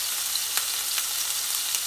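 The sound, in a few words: swordfish frying in hot oil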